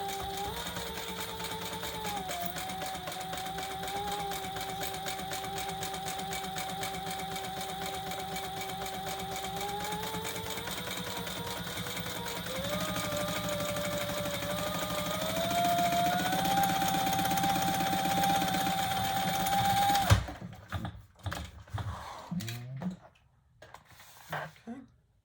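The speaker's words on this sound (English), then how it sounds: "let's just baste that 1/8 of an inch all the way around." Sewing machine basting an eighth-inch seam around a leather retro sling bag, a steady fast needle chatter and motor whine running continuously before stopping, followed by a few handling clunks.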